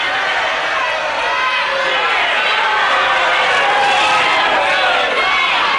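A wrestling arena crowd roars steadily for Steve Veidor, a dense, continuous wall of cheering and shouting that holds its level throughout, with a commentator's voice running over it.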